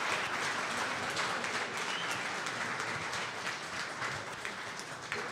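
An audience applauds at a live Clubhouse Live event with Packers Pro Bowler Kenny Clark, producing steady, dense clapping that holds at an even level throughout.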